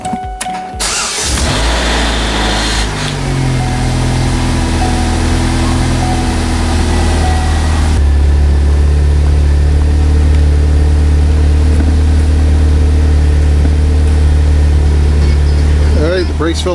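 A car engine cranks and catches, then settles into a loud, steady idle close by, during a brake fluid flush and bleed.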